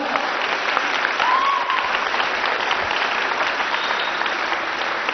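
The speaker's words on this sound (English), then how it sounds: "give them a round of applause for having the courage to come out" Audience applause at a seminar, dense and sustained clapping from a large crowd, loud and even for several seconds without a break.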